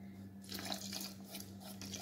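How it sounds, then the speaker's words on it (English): Water trickles steadily into crepe batter made with coconut milk, a soft close pouring stream running almost throughout over faint background hum, with no talk. "And now it's time to add water,"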